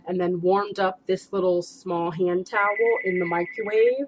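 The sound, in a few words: phone ringing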